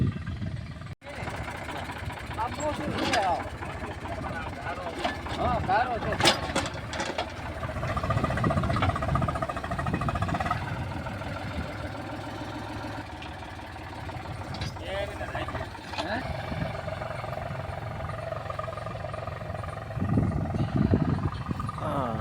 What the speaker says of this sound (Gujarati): ટ્રેક્ટરે આવી ગયું છે જોઈ શકો છો